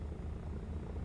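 A steady low drone from the piston engine of an FW190 or BF109 fighter in the War Thunder flight game, rumbling evenly and moderately loud throughout the short moment without speech.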